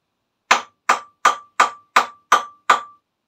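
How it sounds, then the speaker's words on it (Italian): Seven evenly spaced, sharp dry taps on a carbon fibre sandwich panel with a biaxial core, each a short crisp knock with a quick decay, heard alone in a quiet room. "il suono della solita lastra, solito peso, con appunto il carbonio, un sandwich con il carbonio e il biassiale al centro"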